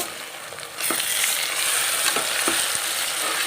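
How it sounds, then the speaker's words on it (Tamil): Ginger garlic paste frying for chicken biryani, a loud steady sizzle that swells suddenly under a second's time, broken by a few sharp scrapes of stirring. "இஞ்சி பூண்டு பேஸ்ட் வந்து நமக்கு ரொம்ப நல்லா ஃப்ரை ஆகணும்"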